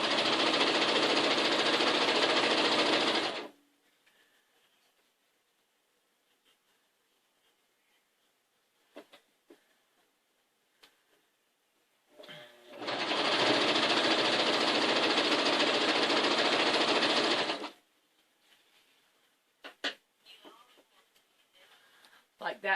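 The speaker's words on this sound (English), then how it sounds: "we're going to sew straight down" A sewing machine stitches quilt pieces together in two steady, loud runs of several seconds each, with quiet handling noises and a voice between them.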